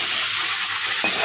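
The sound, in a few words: chicken frying in hot oil with turmeric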